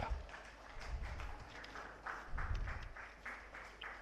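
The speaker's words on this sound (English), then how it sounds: "Please, a big round of applause, everyone." Applause at a book launch event in India, quiet and somewhat distant clapping from a crowd, with low rumbling room noise underneath.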